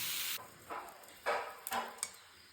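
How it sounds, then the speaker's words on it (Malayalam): Banana stem thoran sizzles softly in a pan while it is stirred, with a few scraping strokes and clinks over a low, steady frying hiss, close and quiet. "ആഡ് ചെയ്തിട്ട് ഉപ്പിട്ടിട്ട് നന്നായിട്ട് ഇളക്കി അടച്ച് വെച്ചിട്ട് വേവിക്കാം."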